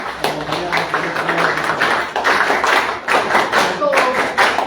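An audience at a conference on social agenda and migration claps, a loud, dense burst of applause with uneven swells and some close thumps, continuing throughout.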